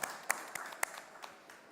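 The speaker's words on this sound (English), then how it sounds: "Sous nos acclamations, applaudissons les panélistes" An audience at a COP28 side event applauds the panelists with scattered, light hand claps in an irregular patter, fairly faint and spread through a reverberant hall.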